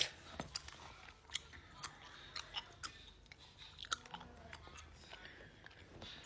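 Chewing gum worked with exaggerated mouth noises: close, wet smacks and clicks in an irregular rhythm over several seconds, with no talking.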